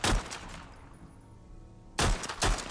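Pistol shots from the WWI shooter game Over the Top, a sidearm likened to something between a Mauser and a 1911: a loud report at the start, a quieter lull, then two more sharp shots near the end.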